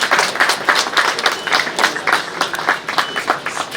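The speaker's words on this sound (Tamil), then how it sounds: "கைத்தட்டல்களுடன்." A smaller audience at a housing plots and villas grand opening ceremony claps in distinct, fairly close individual hand claps forming uneven applause that continues the whole time.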